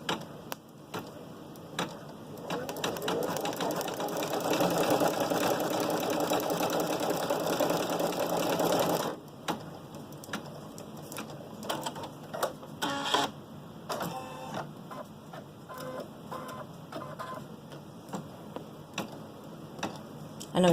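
An embroidery machine stitching a tack-down on an in-the-hoop stuffed bunny head, a steady fast mechanical whir for several seconds, then a pause followed by slower, intermittent ticking stitches, close up and without talk.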